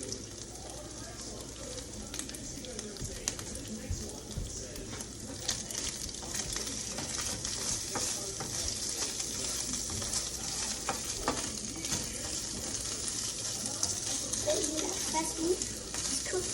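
Meat for Philly cheese steaks frying in a pan, a continuous crackling sizzle with irregular pops and spatter, close and steady, while people talk intermittently over it.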